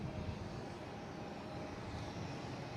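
A Delta airliner arriving at Boston Logan International Airport, heard as a steady, distant broadband engine roar with no distinct peaks, faint and continuous throughout.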